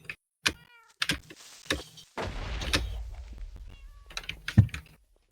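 A cat meowing in a video game, several short separate meows near the start and again near the end, mixed with clicking keyboard-like taps and a brief whooshing burst in the middle.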